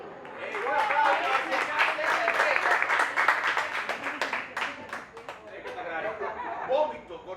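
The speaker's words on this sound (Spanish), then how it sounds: "Ahora necesitamos a dos voluntarios que quieran subir con nosotros. ¡Un aplauso!" Audience applause with scattered laughter and chuckles at a live comedy show, dense clapping sustained throughout and swelling and easing, with chatter mixed in.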